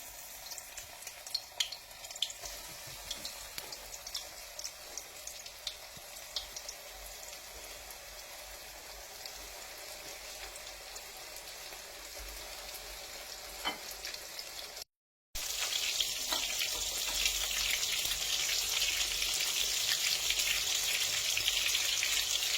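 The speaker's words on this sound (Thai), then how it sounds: "น้ำมันเราก็ได้ที่แล้วนะคะ ทีนี้เราก็เริ่มทอดค่ะทุกคน" Battered porcini mushrooms deep frying in hot oil, a steady crackling sizzle that grows louder and denser after a brief cut, with no talk.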